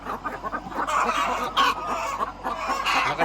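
Eight-month-old hens cluck busily and overlap one another while jostling for a laying spot, a dense, close, continuous farmyard chatter with occasional louder squawks.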